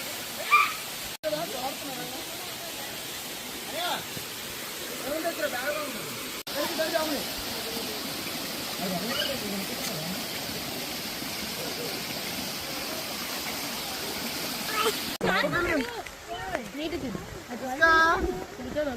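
Water pours at the waterfall at Kondalingalavalasa, Vizianagaram, giving a steady rushing hiss. People talk over it throughout, and the water noise thins near the end while voices carry on.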